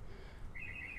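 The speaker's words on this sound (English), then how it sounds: "Listen to those birds singing." Birds chirping near a beach boardwalk at Vanderbilt Beach in North Naples, Florida: a brief, faint run of high tweets over soft outdoor wind and surf noise.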